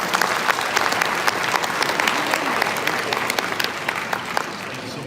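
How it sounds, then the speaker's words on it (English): Concert audience in a high school auditorium applauds a band director, a continuous round of crisp, close clapping with individual claps standing out. "So let's give him a round of applause."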